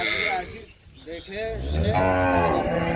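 A dairy cow on a farm lets out a loud, close, drawn-out moo, with a shorter lowing call before it, alone without talk.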